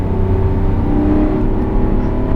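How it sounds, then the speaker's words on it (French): A car engine revs steadily and loud from inside the cabin during an on-track driving lesson on the Bugatti circuit at Le Mans, a continuous droning roar of acceleration with no talk. "Allez, tu peux accélérer un petit peu si tu veux."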